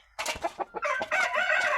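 Fighting-breed rooster crowing close by, a loud drawn-out call with a few short clucks leading into it.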